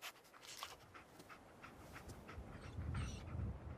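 The dog companion Dogmeat in the video game Fallout 4 pants quickly and rhythmically, faint and continuous over a low rumbling background, without speech.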